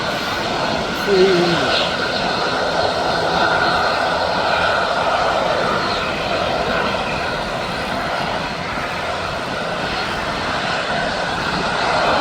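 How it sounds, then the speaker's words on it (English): A Ryanair jet airliner taxis out at Birmingham Airport, its engines a steady, even drone at middle distance throughout, with a voice speaking briefly over it. "There's the Ryanair now, it's just going out"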